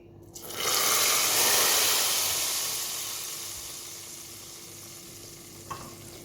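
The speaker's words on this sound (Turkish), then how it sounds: "Şimdi şöyle nanesini de yaktım. Onu da bir dökeyim hemen." Hot butter with burnt mint poured onto a pot of Turkish yayla soup bursts into a loud, hissing sizzle that peaks quickly, then slowly fades, followed by a faint clink near the end.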